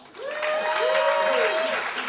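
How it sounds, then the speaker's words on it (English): Crowd at a stand-up comedy show breaking into steady applause, a broad wash of clapping that swells and holds for about two seconds, with a tonal whistle-like sound riding over it. "Y'all give me a round of applause."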